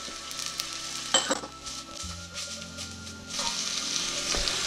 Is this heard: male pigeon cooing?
no